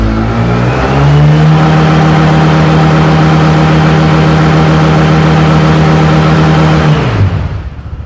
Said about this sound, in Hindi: अगर मैं रेसिंग मोड करके यानी कि रेस मोड करके फुल थ्रोटल दूँ तो कितनी स्पीड जा सकती है